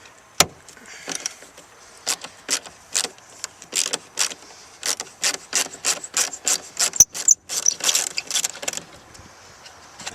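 A screwdriver works loose a T40 Torx screw from a side panel on a Lexus SC430, giving a series of sharp ratcheting scrapes and clicks in an irregular rhythm, close and fairly loud with no talking.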